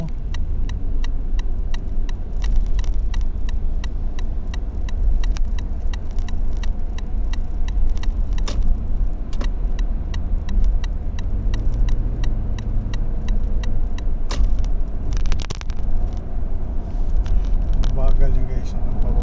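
Heavy road traffic in a congested area, a continuous rumble of car engines with repeated rapid ticking and a few louder passing bursts, while people talk over it throughout.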